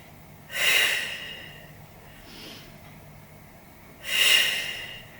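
Two slow, deliberate Pilates breaths during a total body workout, each a loud, close breathy rush of air followed by a fainter exhale, with a quiet pause between them.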